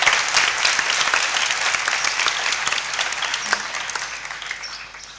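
Congregational applause in a Catholic church on Palm Sunday, a full burst of many hands clapping that slowly thins out over about five seconds, with no voices over it.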